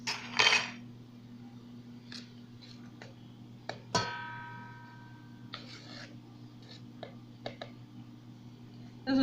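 A metal measuring spoon scoops baking powder for keto coconut cupcakes, giving a sharp clink and scattered small taps and scrapes against a container in a quiet kitchen, with one louder rustle at the start.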